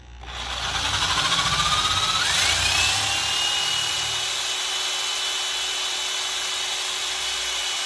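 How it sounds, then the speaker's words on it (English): A number 31 jobber bit in a power drill bores through a block, the motor whining loudly and steadily with a rising pitch as it bites into the material, sustained alone for several seconds. "we can use our number 31 jobber bit to drill through the block"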